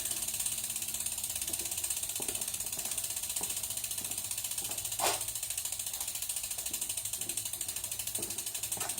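Recumbent trike chain turned backward through the freewheel, giving a steady run of fast, even ratchet clicks for the whole stretch at close range, with a few slightly louder clacks along the way.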